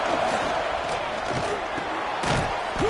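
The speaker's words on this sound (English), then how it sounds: "how nice is it to have the home crowd going absolutely bananas?" Home crowd at a college football game roaring loudly in a sustained wall of cheers and shouts, with a voice talking over the noise.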